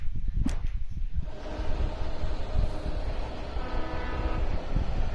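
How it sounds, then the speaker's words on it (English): Train in the video game Alan Wake, with a short horn blast at the start followed by a loud, continuous rumbling roar as it rolls past close by. "Oh, it was a train."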